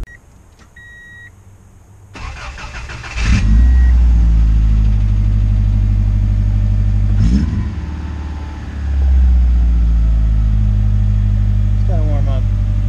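Subaru engine fitted with unequal length headers idles and revs loudly up close with a steady low rumble, after a brief beep at the start, with a voice speaking over it.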